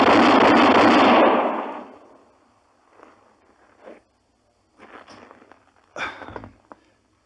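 Quick-draw gunfire in a 1958 radio western drama, a loud burst of shots at first, then a few sharp cracks with a ricochet-like whine, separated by short pauses.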